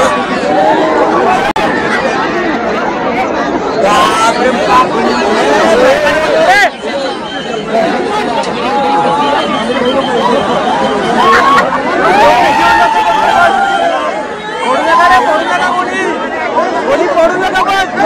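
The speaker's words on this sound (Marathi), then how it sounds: "बेकार गर्दी, अरे बेकार गर्दी." Dense, loud crowd chatter on a packed Mumbai street during the Ganpati festival, with many close voices overlapping continuously and the occasional laugh rising from the babble.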